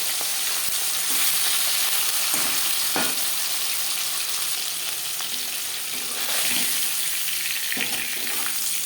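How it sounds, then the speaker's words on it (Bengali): Hilsa fish pieces fry in hot oil, a steady close sizzle and crackle that swells at times, with occasional soft scrapes and clicks from turning or stirring. "একটা সাইড ভাজা হয়ে গেলে অপর সাইডটা উল্টে দেবো।"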